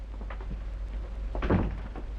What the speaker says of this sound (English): Shut the door, Sicardi.